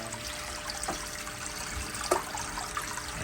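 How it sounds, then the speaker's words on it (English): Clean water pours into an aquaponics fish tank in a continuous soft trickling rush, with a couple of brief splashes. "I'm just going to put clean water in."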